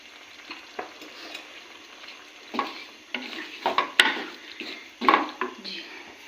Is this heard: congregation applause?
no